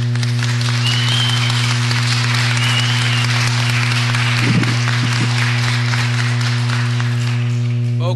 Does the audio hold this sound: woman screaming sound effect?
no